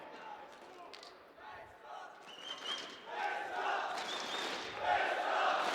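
Crowd roaring and cheering in the arena during a CS:GO match at IEM Katowice 2022, a dense, swelling wall of voices that grows louder in the second half, with no one speaking.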